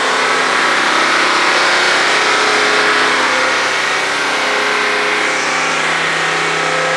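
Mercedes GT63s AMG engine held at a steady high rev, a loud continuous roar with little variation that stays up close and runs alone throughout.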